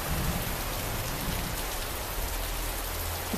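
Steady heavy rain falls outside on an evening in Sri Lanka, a dense continuous wash of drops with low rumbling underneath, close and constant with no voices.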